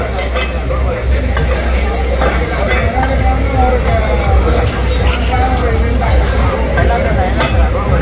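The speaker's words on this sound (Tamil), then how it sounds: "பாருங்க அப்படியே கொத்தொண்டு கொடுப்பார்" Kottu roti is worked on a hot griddle at a Tamil food stall during a temple festival in heavy rain: a steady sizzle with irregular scraping and tapping, while voices murmur underneath.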